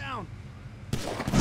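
Single sharp gunshot in Grand Theft Auto 5 gameplay, a loud crack with a broadband burst near the end, preceded by a short sweeping tone and quiet game ambience.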